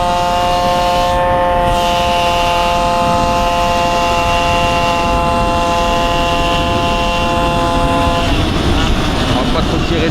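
MBK moped fitted with a Stage6 kit engine revs loud and close, a steady high buzzing drone with clear rising harmonics that holds for about eight seconds before easing off.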